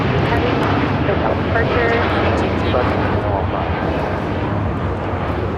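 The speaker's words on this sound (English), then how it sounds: "This is Japan Airlines Flight 15 taking off to Tokyo Haneda on a 787-9 Dreamliner" Japan Airlines Flight 15, a Boeing 787-9 Dreamliner bound for Tokyo Haneda, takes off from LAX, its jet engines a loud, broad, steady roar throughout.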